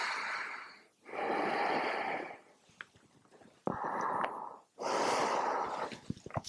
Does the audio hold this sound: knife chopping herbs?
no